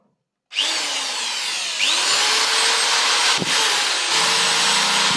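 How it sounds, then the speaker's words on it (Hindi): A repaired electric drill machine starts up after a short silence and runs loud and steady close by, its whine shifting pitch slightly as it spins, with a brief knock partway through and no talk. "फाइनली हमन हा ड्रिल मशीन ला बना चुके हन। तो चला चालू करके"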